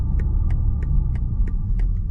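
Engine of a 2024 BMW X5 xDrive 40i while driving, a steady low droning hum and rumble from inside the cabin, even and continuous with faint regular ticking on top.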